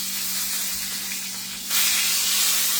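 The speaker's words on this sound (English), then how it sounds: "It is worth it because this is going to be so good. And there is oil all in the air." Hot oil spatters and hisses as a roast sears in a pan, a dense steady sizzle that swells louder for the final second, with no talking.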